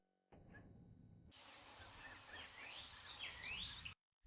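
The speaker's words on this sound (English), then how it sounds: "I love the birds here." Birdsong sound effect: after a faint brief chirp, a hissy outdoor ambience with rising, sweeping bird whistles and chirps builds to a brighter call before cutting off abruptly.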